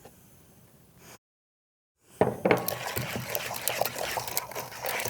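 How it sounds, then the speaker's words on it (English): An egg is whisked into blondie batter in a bowl, a busy, close clatter of whisk tines against the bowl, preceded by a faint quieter stretch and a brief silence. "I'm going to tip an egg in and then whisk that."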